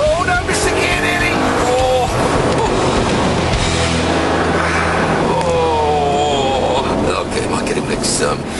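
An Audi R8 and a Porsche Carrera 4S race side by side, with a loud engine roar rising through the revs and shifting pitch as the cars accelerate hard.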